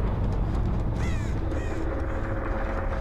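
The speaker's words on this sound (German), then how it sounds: "Dort kracht wieder ein Rabe." A raven in Dead by Daylight gives two or three harsh caws over a loud, constant ambient game rumble.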